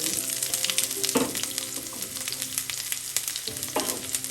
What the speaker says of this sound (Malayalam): നമുക്ക് 1/2 ടീസ്പൂൺ കടുകിട്ട് പൊട്ടിക്കാം